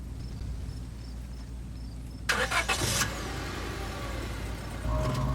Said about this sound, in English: the car cuts around the darkened road